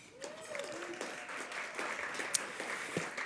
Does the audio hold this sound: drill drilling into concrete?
no